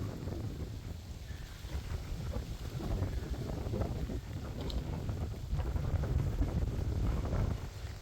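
Wind blows hard across an open hilltop peak in a Tripura village, buffeting the microphone with a continuous low rumble that swells in gusts partway through; no voices are heard.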